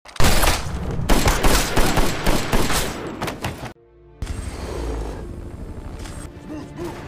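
A loud burst of rapid gunfire in an action film rattles for several seconds, cuts out abruptly, then gives way to a quieter rumble with scattered clanks.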